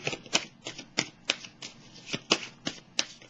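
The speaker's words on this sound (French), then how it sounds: "je vais déposer une carte dessus" A tarot card being placed down during a reading, heard as a quick run of about ten sharp, close card snaps and slaps in an uneven rhythm, with no talking.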